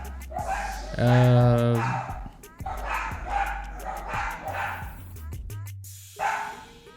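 Dogs bark repeatedly at mid distance while a person talks over them, the barking coming in short irregular bursts.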